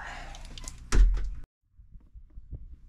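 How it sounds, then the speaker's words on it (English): A door is opened during a deadbolt installation, with a solid thunk and latch clatter in the first second and a half, then near silence with faint handling noises. "Let's open the door."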